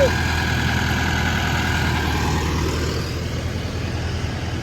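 A tractor engine idles with a steady low rumble and drone, close by and continuous, dipping slightly in level partway through.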